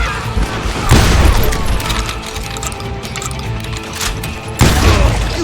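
Heavy booming shotgun blasts in a video game, a loud close shot near the start and another toward the end, over a dense rumbling background of game noise.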